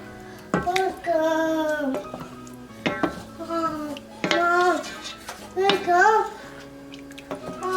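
Shrimp a la diabla (camarones a la diabla) being mixed in a pan, with intermittent utensil clanks and scrapes against the pan running under a person talking nearby.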